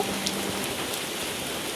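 Rain falls steadily outside a grandparents' house, a continuous, even hiss of drops striking surfaces at moderate loudness, with no other sounds standing out.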